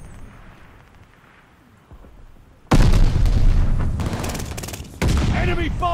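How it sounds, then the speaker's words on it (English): Heavy glide bomb blasts in the Call of Duty Vanguard video game, with a sudden loud booming detonation after a quiet stretch, followed by rolling rumble, crackling debris and a second close burst of explosions, under game noise. "Enemy glide bomb incoming"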